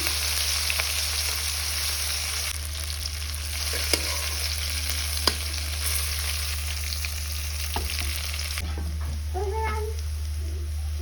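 Onions frying in oil for a fish curry with aloo, a continuous loud sizzle with occasional stirring clinks, and near the end a cat meows a few times nearby.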